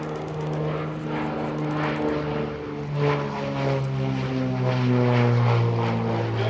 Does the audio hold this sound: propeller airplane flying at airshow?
yes